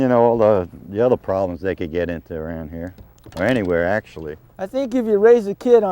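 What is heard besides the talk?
No everyday noises stand out.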